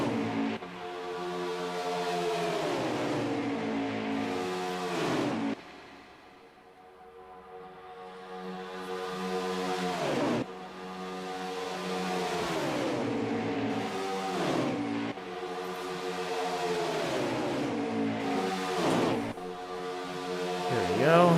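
Race cars roar at full throttle on the banked oval at Daytona International Speedway in a Daytona 500 video game race, a dense pack of engines droning steadily with repeated rising and falling pitch sweeps as cars shift and pass.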